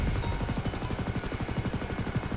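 A helicopter in the video game GTA Online drones steadily with a fast, even rotor chop, loud and continuous throughout, with no voices.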